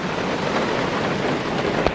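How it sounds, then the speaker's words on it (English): Rain falls on a flower farm as a dense, steady hiss of drops, fairly loud and unbroken for a couple of seconds, with no talk. "rain wasn't supposed to start until like 4."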